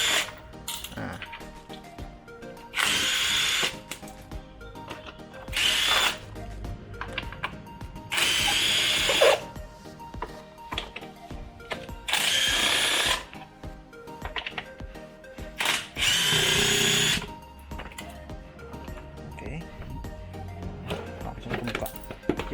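An impact driver set to speed 2 drives a screw in several loud, rattling bursts of a few seconds each, separated by pauses. A person talks between the bursts.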